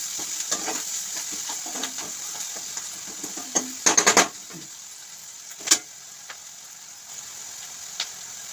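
Onions fry in a pan for a mushroom curry, with a continuous soft sizzle and a few sharp clinks and scrapes from stirring, all close up and without talk.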